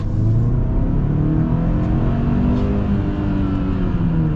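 A 2024 Hyundai Santa Cruz XRT pickup in sport mode accelerates hard, its engine a loud, steady rumbling drone with rising harmonics heard from inside the cabin, no voices over it.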